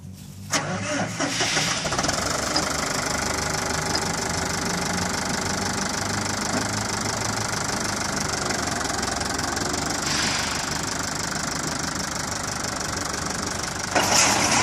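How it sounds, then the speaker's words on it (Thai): An engine-powered fertilizer spreader working a lawn or paddy field in Thailand runs with a loud, steady motor drone and rattle throughout, with a brief change in tone near the end and no speech. "วันนี้เราก็เลยใช้เครื่องตัวนี้หว่านหญ้านะครับหว่านปุ๋ยให้สนามหญ้าก่อนนะครับ"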